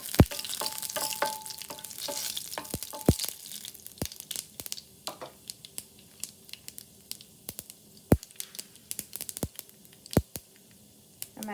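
Chana dal dropped into hot oil for tomato thokku gives a soft fry with sharp, scattered crackles and pops at close range, fading to quieter intermittent snaps.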